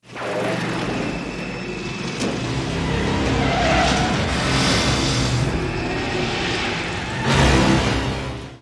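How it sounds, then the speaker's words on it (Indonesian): A pick-up truck races away in a car chase, its engine roaring loudly while tires squeal and skid. The noise is dense and continuous and swells toward the end, with no talk. "mereka mengejar mobil pick-up yang disetir oleh Ingrid"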